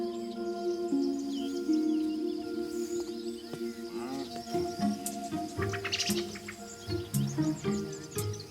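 Birds calling at a lake in La Brenne where cattle graze, with a mix of close and distant chirps, whistles and trills scattered over a quiet, continuous background.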